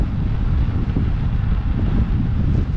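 Steady, loud wind buffeting the microphone on a V12 motorcycle ride around a housing estate in Exminster, Devon, a continuous broadband roar with no talk over it.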